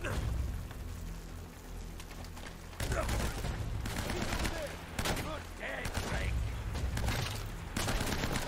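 Shotgun blasts in Uncharted: Drake's Fortune, a few loud bursts of gunfire amid ongoing noisy combat, with some talking underneath.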